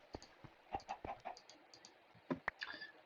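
Chickens in a survival video game give short, faint clucks among scattered soft clicks and taps, irregular and quiet, ending with a few sharper bursts.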